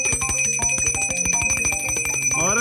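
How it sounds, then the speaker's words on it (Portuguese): A bell is rung rapidly and continuously to call hippos for feeding, producing a close, loud, bright metallic clanging with a steady ringing tone under the strikes. "Fica tocando o sino."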